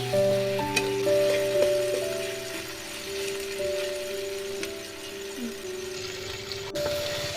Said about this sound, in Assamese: এতিয়া দিছো কেঁচা আদা নহৰুখিনি এইখিনি কেঁচা গোন্ধটো যোৱালৈকে ভাজি ল'ম